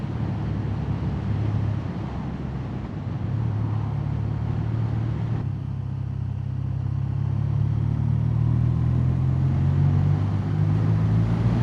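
A BMW R12 nineT motorcycle steadily cruising on a chilly autumn ride, its engine drone continuous and close, with heavy wind buffeting the microphone and no speech.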